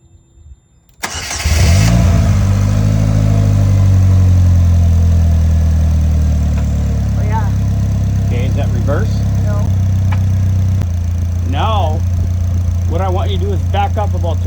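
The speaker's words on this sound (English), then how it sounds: "Go ahead and start it up and try to engage your clutch." A 2015 Polaris Slingshot SL engine cranks and catches after a second, then settles into a loud, steady idle while people talk nearby.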